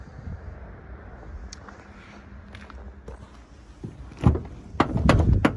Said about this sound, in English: Opening the van, as you can hear, the door catch strap slightly clicking on it